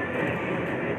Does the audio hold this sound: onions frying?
no